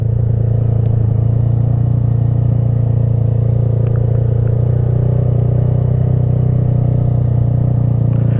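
A motorcycle pulls away in first gear, giving a loud, steady low engine drone with a constant throb and no talk over it.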